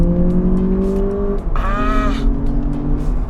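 A Lexus RX 500h F Sport hybrid SUV in Sport mode pulls hard with a steady, loud engine drone that climbs in pitch, while a brief high squeal cuts in partway through, with no talking.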